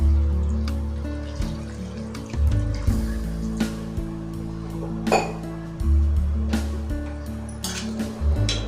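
Water poured into a pan of snake gourd stir-fry, a trickling splash with metallic clinks of utensil against the pan over a low steady stovetop hum.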